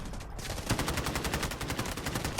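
Bots fire automatic guns in the mobile shooter Delta Force Mobile: a rapid, steady stream of loud, evenly spaced gunshots rattling continuously throughout.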